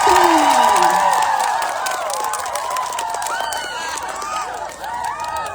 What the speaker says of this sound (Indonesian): Tepuk tangan untuk Ibu Kosto.